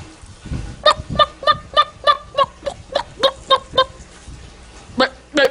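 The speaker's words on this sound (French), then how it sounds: "Une poule, ça fait..." A hen clucks in a quick run of about a dozen evenly spaced clucks, close and clear, then a couple more after a short pause.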